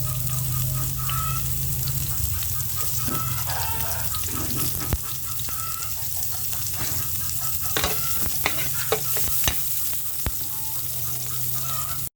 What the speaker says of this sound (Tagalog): Ayan, ganyan po siya dapat iprito.